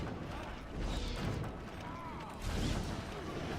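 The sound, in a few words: ballista siege weapon firing bolts, from video game Dragon Age Origins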